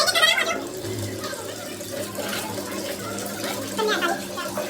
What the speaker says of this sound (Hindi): तो मम्मी धोवांगा पैर।